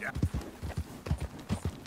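Horse hooves clip-clop in a pirate-cowboy video game, a rapid, steady run of hoof beats close by that fills the whole stretch without pause.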